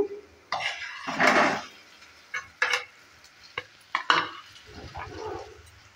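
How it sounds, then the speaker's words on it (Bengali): Fried potatoes being stirred into spiced spinach in a pan for aloo palak sabzi, heard as scraping stir strokes and clatter of the spoon against the pan in several bursts over a soft sizzle. "আলুটা দেওয়ার পর ভালো করে আবারও মিক্স করে নিচ্ছি।"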